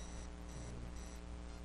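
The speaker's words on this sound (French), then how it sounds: "le bip que vous entendez, c'est juste pour capter la température" An electronic temperature sensor beeps steadily during a paranormal investigation in a château, giving a continuous electronic tone with a faint repeating pulse over a room hum.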